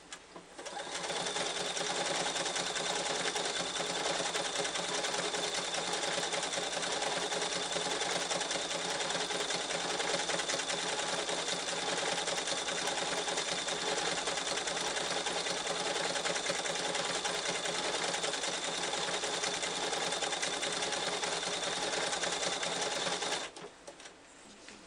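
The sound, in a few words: sewing machine sewing quilt binding with white thread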